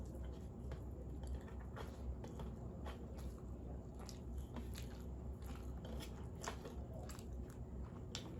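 Quiet close-up chewing of rice with spicy fish chorchori, soft wet squishes and bites repeating steadily at a low level with no talk.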